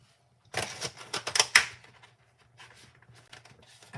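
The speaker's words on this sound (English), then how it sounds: "We still have to get the rest of these strawberries cut" Knife cutting strawberries during home meal prep: a quick run of close, sharp chopping taps on a board, then fainter scattered knocks, with no talk.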